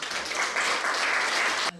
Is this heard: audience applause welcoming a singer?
yes